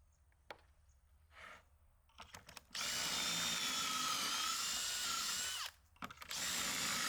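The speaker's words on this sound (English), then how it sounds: "Once I had all of the holes drilled" Power drill boring pocket holes in lumber for a BBQ side table, a few faint clicks and handling sounds, then two loud sustained whining bursts separated by a brief pause.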